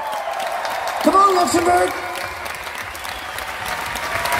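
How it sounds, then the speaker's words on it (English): A concert crowd in Luxembourg applauds in a steady, dense roar of clapping and cheering that fills the room, while a voice on a microphone briefly calls out over it. "I think you should all give yourselves a big round of applause for being so fucking good."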